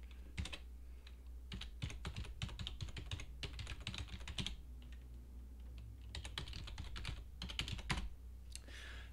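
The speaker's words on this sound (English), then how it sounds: "So I'm going to type in a fake address here." Quick bursts of keystrokes clatter on a computer keyboard as an email address is entered, close and clear, with short pauses between runs of typing.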